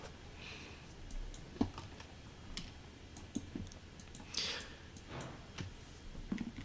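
Clicky mechanical keys on a compact 12-key gaming keypad being pressed, giving scattered sharp taps and clacks at an uneven rhythm, close and fairly quiet over a low room hum.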